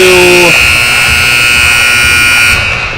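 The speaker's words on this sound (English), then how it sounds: "sorry everybody, just a buzzer there" A loud electronic arena buzzer blares during a youth under-15 hockey game, a sustained harsh buzzing tone that holds steady for about three seconds, starting over the tail end of another tone.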